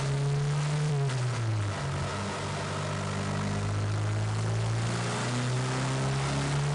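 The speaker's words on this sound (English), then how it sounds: "In this run, the turbo spools up faster" A turbocharged car engine runs hard on a dyno roller, a loud, continuous drone whose pitch rises and dips as the revs change, close up and with no talk.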